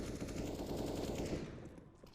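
Rapid automatic gunfire from the video game Counter-Strike, a dense continuous burst that rattles loudly for about a second and a half and then fades out.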